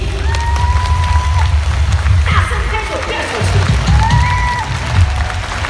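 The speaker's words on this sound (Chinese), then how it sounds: "各位，掌声给他们听听" Arena concert audience at Mohegan Sun applauding the backstage crew, a dense, sustained roar of clapping filling the hall, with a voice speaking over it through the sound system.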